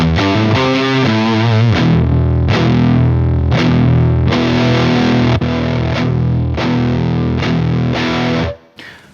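Electric guitar through a cranked Marshall JCM800 tube amp: loud, heavily distorted chords and riffs ring out in a steady rhythm, close and saturated, then cut off abruptly near the end.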